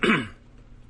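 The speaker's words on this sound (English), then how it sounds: "I really can't clear my throat at all today" A single short, harsh throat clearing by a man on a morning talk radio show, loud and close, followed by quiet.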